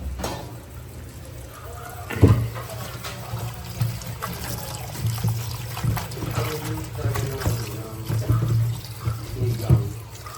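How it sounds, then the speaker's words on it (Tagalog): Tap water trickles and splashes steadily while water spinach (kangkong) is washed in a sink, with irregular clatters and handling sounds over the running stream and faint talk in the background. "Hugasan natin yung kangkong."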